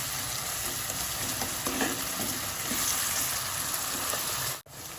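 Ground spices, including coriander powder, fry and sizzle in a pan for chicken keema tadka with a steady, close crackling hiss and light stirring scrapes, with no voices, and a brief dropout near the end.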